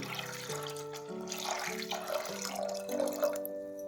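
Water runs and splashes into a cooking pot of toor dal in a steady gurgling stream, its pitch shifting upward as the pot fills; no one speaks.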